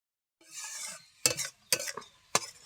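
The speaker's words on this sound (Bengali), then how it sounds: "টমেটো পেস্ট দিয়েছি ভালো করে এইটা কষে নেব" A spoon stirs spice powders and tomato paste in a pan for a Bengali vegetarian eggplant dish, with a soft sizzle followed by three distinct scraping clatters, close and fairly quiet.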